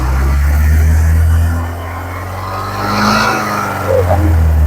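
A 2021 Honda ADV 150 ABS scooter engine is revved hard to full throttle, a loud, close, sustained drone that swells, eases slightly and rises again, with no speech.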